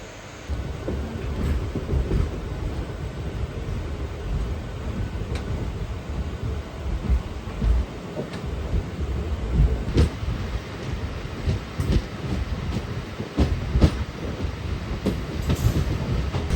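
Indian passenger train near Somnath–Jabalpur Express departure, a steady broadband rumble and rattle of rolling stock under a single yellow signal, loud and continuous with occasional sharper clanks, no voices.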